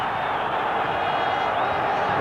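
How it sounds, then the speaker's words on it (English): Dense, steady roar of a big football crowd at Roker Park during the 1992 FA Cup quarter-final replay between Sunderland and Chelsea, a continuous wash of massed voices with no breaks. "The crowd is roaring at Roker."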